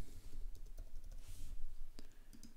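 Quick keystrokes on a computer keyboard, several soft clicks in an irregular burst while a password is entered, close and quiet over faint room hiss.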